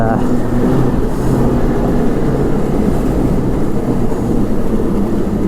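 A Ski-Doo Renegade 900 ACE snowmobile runs on a trail, its engine a loud, sustained droning roar that holds steady and close across the whole stretch.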